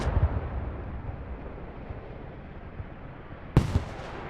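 Distant booms and a sharp nearby blast in the online military game Squad, where mortar shells land during a large 50-versus-50 battle at Goose Bay, over a constant rumbling battlefield din, with no talking.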